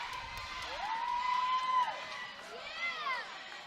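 Crowd at a wrestling show cheering and shouting steadily, with a sustained whoop and some whistling rising and falling; the crowd noise stays moderately loud throughout.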